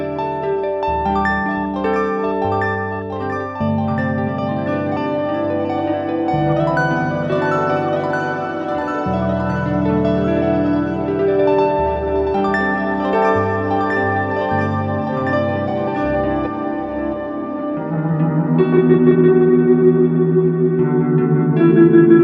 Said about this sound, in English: loops play back at half, normal, double, and quad speed